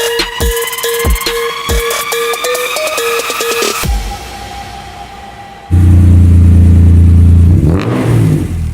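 A 1993 Acura NSX with a wide-body kit revs hard in a series of sharp throttle blips, then settles to a steady, very loud, deep engine roar close by.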